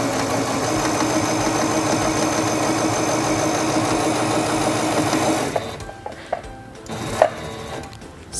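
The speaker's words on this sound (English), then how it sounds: "Release the button and sew forward along your seam" A sewing machine runs forward along a fabric seam in a steady fast mechanical whir, then stops abruptly, leaving a few soft clicks and handling knocks.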